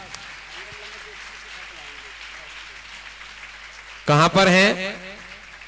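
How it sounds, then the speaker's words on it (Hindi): A burst of audience applause at a Jain religious ceremony, the Siddhachakra Mahamandal Vidhan, breaking out loudly near the end after a stretch of someone speaking over a microphone and faint background murmur. "तालियां बजती रहनी चाहिए, सौभाग्य की अनुमोदना है।"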